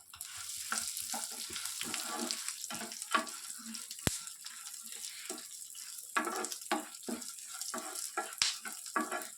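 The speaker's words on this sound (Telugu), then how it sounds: "ఇవి ఎండు ఖర్జూరాలండి. కొబ్బరి పొడి. అన్నిటినీ బాగా ఫ్రై చేసుకుందాం." Dry dates and coconut powder being fried for Eid sheer khurma, heard as busy crackling sizzle with repeated spatula scrapes and clinks against the pan, close and continuous, with no voices.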